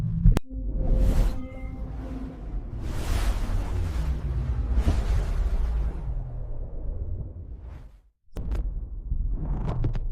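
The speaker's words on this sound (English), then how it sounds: "It is the groan of a supermassive black hole." NASA's sonification of a supermassive black hole comes through as deep, rumbling groans and swelling whooshes that rise and fade in waves, with a sharp click and a brief near-silence before the swells return.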